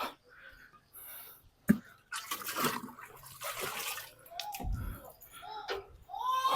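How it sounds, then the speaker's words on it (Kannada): Water sloshing and splashing as buckets of it are thrown across a floor during a Sunday house cleaning, several uneven splashes in bursts, with faint voices nearby. "ಎರಡು ಬಕೆಟ್ ನೀರು ಹೊಡೆದು ಬಿಡೋಣ"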